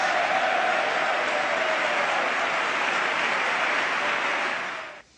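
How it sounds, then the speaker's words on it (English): Audience applause rolls on as a thick, uniform roar of clapping that stays level for about five seconds, then cuts off abruptly at the end. "And that wins them more applause."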